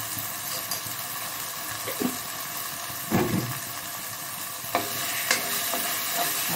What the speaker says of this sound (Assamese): এইখিনি বঢ়িয়াকৈ ভাজি ল'ম এতিয়া